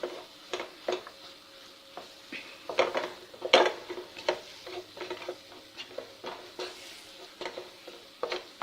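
Pumpkin seed burfi mixture roasting in a pan, with a spoon scraping and stirring in irregular taps and scrapes over a soft sizzle, close and moderately quiet.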